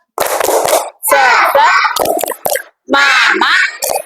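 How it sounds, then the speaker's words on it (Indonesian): Children in a classroom do a rhythmic spirit clap, sharp clusters of hand claps in a patterned beat alternating with loud shouted chanting from the group. "Tepuk semangat."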